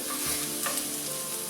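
Onion sizzling in a little hot olive oil in a pan, a close, steady bright hiss with a few stirring scrapes, no voices.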